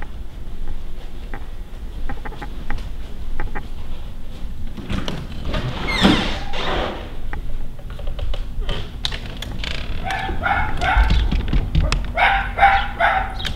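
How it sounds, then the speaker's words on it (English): A neighbor's dog barks beyond a fenced backyard of a rental house in San Antonio, Texas, with repeated short yaps that grow busier toward the end over a steady outdoor background. "I know the neighbor dog is excited to see me."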